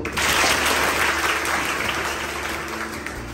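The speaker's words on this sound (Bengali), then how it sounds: "আমরা নিজেদের জন্য একটা তালি দেব" An audience bursts into applause for itself at a Women's Federation for World Peace Bangladesh gathering, a dense, steady wash of many hands clapping together, loud at first and easing slightly toward the end, with no voices over it.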